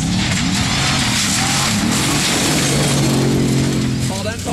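A Formula Offroad race car engine roars loud and close at a track in Mysen, Norway, its steady drone shifting pitch as it revs, with a commentator talking over it throughout.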